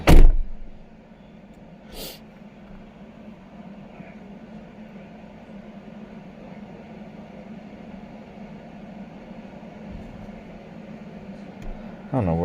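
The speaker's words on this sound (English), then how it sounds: "Let's close the door so you don't hear the beeping" A single loud thump of a 2018 Jeep Wrangler 3.6L door shutting at the start, then a steady low engine-like hum with a faint knock partway through and another thud near the end.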